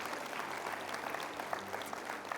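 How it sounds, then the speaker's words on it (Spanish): Applause from a church congregation, a steady dense wash of clapping that holds evenly from start to finish with no voices over it. "Un aplauso al Señor hoy día."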